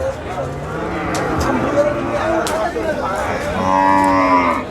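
A desi bull at a cattle market in Nilphamari bellows in long, loud moos close by, rising again near the end, while people talk over the crowd noise.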